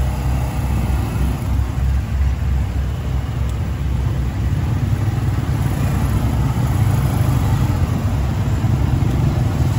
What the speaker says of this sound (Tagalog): So heavy traffic